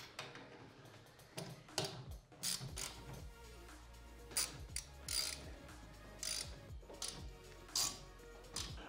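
Repeated ratchet wrench clicking while tightening the rear valance bolts on a ProBuilt roof rack for a fifth-generation Toyota 4Runner, close and distinct in several bursts of rapid pawl ticks with short pauses between them.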